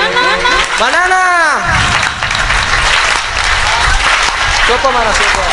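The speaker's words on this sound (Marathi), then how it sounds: "टाळी वाजवा" An audience claps along during a devotional Bhagwat Katha gathering. The dense, continuous applause runs the whole time beneath a loud, sustained singing or chanting voice.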